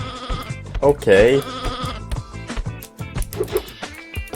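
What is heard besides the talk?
sheep bleating in the video game Sheep, Dog n' Wolf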